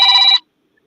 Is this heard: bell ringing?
yes